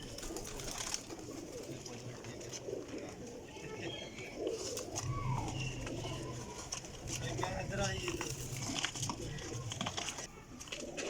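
Golden teddy pigeons at a flying-pigeon breeder's loft, a soft rolling coo repeating over a background of rustling, with people talking nearby.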